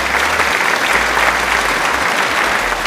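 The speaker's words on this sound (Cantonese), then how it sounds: "咁多謝師兄俾掌聲" Audience applause at a watch show, a steady dense burst of clapping from a small crowd, close and sustained for a few seconds without talk.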